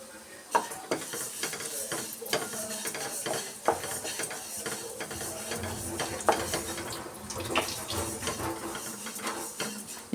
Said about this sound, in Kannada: ಸ್ವಲ್ಪ ಕ್ರಿಸ್ಪಿ ಆಗೋ ತನಕ ಇದನ್ನು ಹುರ್ಕೊಬೇಕು ಅವಲಕ್ಕಿನ.